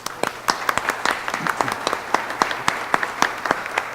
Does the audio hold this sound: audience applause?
yes